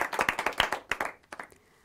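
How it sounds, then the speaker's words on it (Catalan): Audience on a TV spelling quiz gives a quick burst of distinct, crisp handclaps that taper off into a few scattered claps. "Fort aplaudiment, molt bé"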